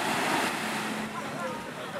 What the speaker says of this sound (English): A lot of waves actually.